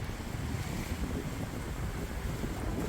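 Wind buffets a sailing yacht at sea on the crossing from Mindelo, Cabo Verde, toward Saint Martin, with waves rushing alongside in a continuous broadband wash and steady rumbling microphone gusts.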